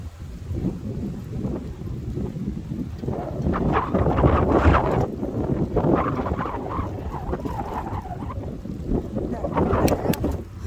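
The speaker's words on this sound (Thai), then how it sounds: "ลมแรงมาก" Strong wind roars and buffets the microphone continuously, with heavy gusting rumble and patches of rain-like hiss throughout.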